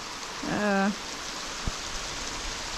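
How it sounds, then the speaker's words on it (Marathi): Steady rain hisses throughout, an even wash of falling drops, with a brief tonal call early on and a single soft thud. "एवढं वातावरण पाच मिनटात बदललं आणि पाऊस चालू झाला"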